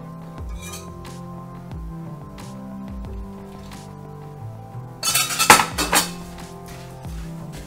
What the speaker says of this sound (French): Et je vais à présent verser le sucre et bien mélanger dans le plat.